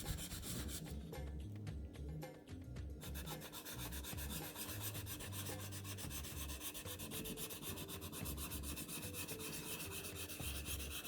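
A Wade & Butcher straight razor is rubbed in small circles on a Shapton whetstone with slurry, a quiet, steady gritty scraping in a rapid repeating rhythm.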